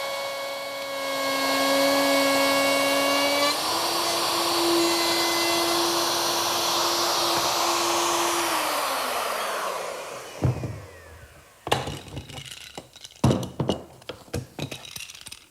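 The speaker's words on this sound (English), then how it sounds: "Now you can see that the router fits between the guides." A woodworking router runs along a shelf dado jig on a bookcase build, making a loud, steady motor whine that shifts pitch once, then winds down and stops, followed by several close clinks and knocks as the tool is handled.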